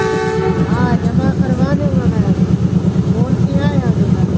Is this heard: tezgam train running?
yes